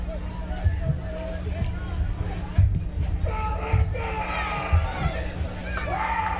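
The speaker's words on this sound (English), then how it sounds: "kickoff return has excited the Millersport crowd" A football crowd at a high school game in Millersport roars and cheers after a kickoff return, a broad sustained swell of voices with bursts of excitement rising over a steady low hum.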